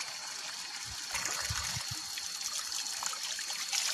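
Cold drinking water trickling and pouring into a container outdoors, being readied for a hike up a mountain, a steady close splashing stream over a constant hiss.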